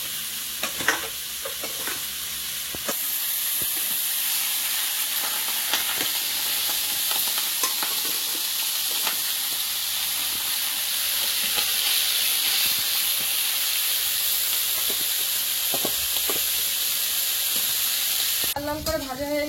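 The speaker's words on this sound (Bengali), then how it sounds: "আলুর মধ্যে একটু হলুদ আর একটু লবণ দিয়ে ভেজে নিই। আর এই পাশে মাছটা ভাজবো।" Potatoes seasoned with turmeric and salt fry in a pan beside fish, giving a steady loud sizzle throughout with occasional scraping and stirring clicks, and no talk.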